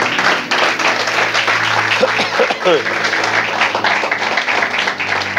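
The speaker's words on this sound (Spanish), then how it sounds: "Aplaudile fuerte al Señor" Congregation applauding loudly in a church service, a dense sustained wash of clapping filling the whole moment with voices and a brief musical tone rising underneath.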